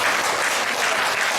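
A church congregation at a Christmas thanksgiving service claps to welcome guests, a loud, steady burst of many hands lasting just over a second with no talk.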